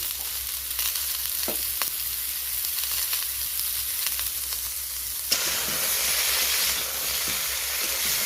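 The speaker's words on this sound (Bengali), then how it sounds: "তো ফুলকপিটা ধীরে ধীরে আমি ভেজে নেব" Cauliflower fries over a low-to-medium gas flame with salt and turmeric, a steady close sizzle with a few stirring clinks that swells into a louder, brighter hiss partway through, with no voices.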